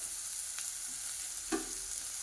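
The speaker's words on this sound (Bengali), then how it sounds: "আজকে হচ্ছে মূলো ভাজা এই যে লাল মূলো নিয়ে এসেছে বাবা গুড় দিয়ে ভাজবো" Red radish frying with jaggery in a pan gives a faint, steady sizzle with a couple of soft stirring clicks.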